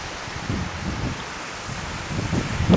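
Strong wind gusting outdoors on a windy day near home wind turbines, a steady roaring rush across the microphone with swelling gusts.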